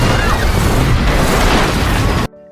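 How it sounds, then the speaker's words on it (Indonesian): A loud, dense explosion roars on the Ark space station in a film, a sustained booming blast that cuts off abruptly into near silence. "terjadi ledakan di Ark"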